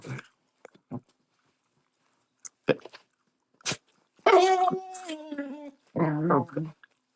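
Two dogs, one small and one big, playing and scuffling, with scattered short thumps and yips, then a drawn-out whining growl and a burst of barking between stretches of quiet.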